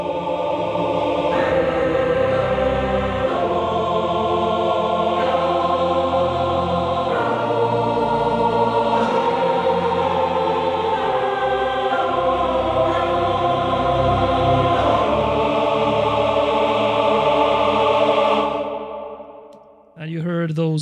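Lush sampled choir voices from the Storm Choir Ultimate library blend with sustained ensemble strings, slow chords swelling and shifting in loudness before fading out near the end.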